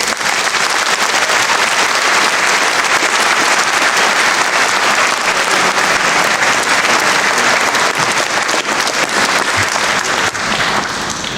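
A large crowd at a university graduation ceremony applauds loudly and steadily, a dense wash of clapping that holds without pause from start to finish.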